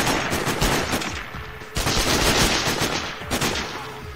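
Sustained, dense gunfire from Sniper: Ghost Warrior video game, loud and close, with overlapping automatic bursts rolling continuously and a fresh volley surging in midway; no talking.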